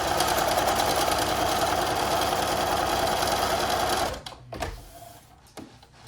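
A sewing machine stitches paper quilt pieces in a steady, loud, rapid mechanical whir for about four seconds, then stops, leaving a few faint handling clicks and thumps.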